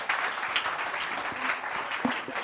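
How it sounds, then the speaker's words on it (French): An audience applauds partners and prize winners at the closing evening of International Week Nantes 2021, steady close clapping throughout with a few sharper individual claps standing out. "On peut encore une fois les applaudir."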